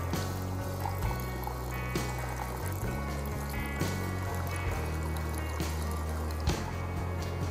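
Water pours steadily into a pot holding black Ceylon tea and cardamom, a continuous close liquid fill with light dripping over a low background hum.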